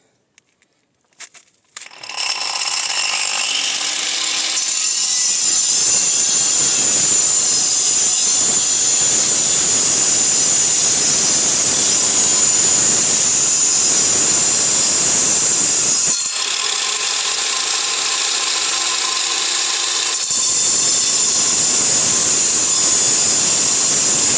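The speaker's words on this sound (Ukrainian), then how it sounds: "І пилять буду зараз." A power saw cuts through concrete support pillars with steel rebar inside. After a few startup clicks, a loud, steady high-pitched whine and hiss runs for over twenty seconds, briefly dipping once and then surging back.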